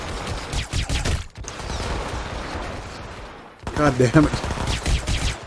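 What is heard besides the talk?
gunfire in a shootout, from video game Hitman Absolution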